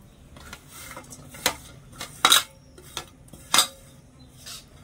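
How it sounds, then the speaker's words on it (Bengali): A metal kadai is set down and handled on a stove, giving several sharp, close clanks and scrapes spaced irregularly over a quiet background, before coconut and jaggery are mixed for a sweet filling. "তো কড়াই দিয়ে দিচ্ছি"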